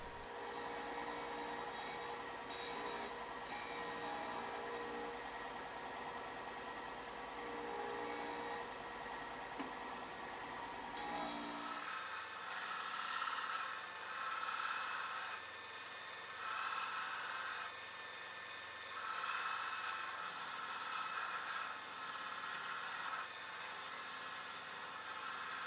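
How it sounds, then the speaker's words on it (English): A disc sander shapes a wooden crucian carp swimbait body with a steady, close whirring drone and a gritty sanding hiss that swells and eases as the wood is pressed against the disc, continuing without a break and without any voices. "I'm just going to finalize the shaping with my disc sander."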